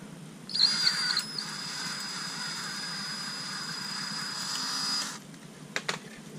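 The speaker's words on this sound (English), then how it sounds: "I've stepped up the drill bit to a 7/64" A steady, whirring drill with a 7/64 bit bores into a motorcycle shift shaft seal at close range, then cuts off, followed by a few faint clicks.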